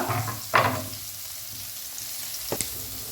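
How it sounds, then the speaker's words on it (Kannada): Onions, cashews and garlic frying in a pan give a soft steady sizzle with a couple of sharp stirring scrapes, close by and without talk. "ಈಗ ನೋಡಿ ಫ್ರೈ ಆಗ್ತಾ ಉಂಟು."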